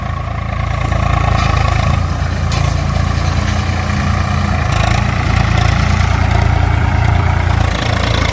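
Two tractors pulling a cultivator through a field, their engines running in a steady, loud, continuous drone with no pauses and no talk.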